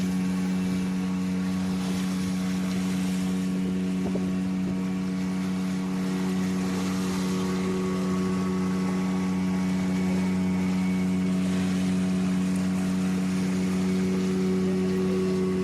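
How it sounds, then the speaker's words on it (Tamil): A motorboat engine runs steadily through a boat ride at the Chunnambar boat house near Paradise Beach in Pondicherry, a loud continuous drone with constant pitch and no breaks. "இப்போ போட் வந்து ரன் ஆகிடுச்சுங்க"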